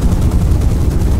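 A P-38E Lightning's cannon and .50 caliber machine guns fire in a video game dogfight, a dense, loud, continuous burst of rapid gunfire filling the whole moment with no pauses.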